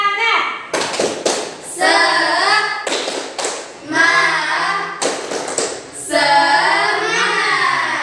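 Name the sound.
class doing the rhythmic 'tepuk semangat' spirit clap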